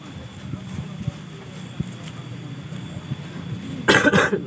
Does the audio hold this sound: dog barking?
no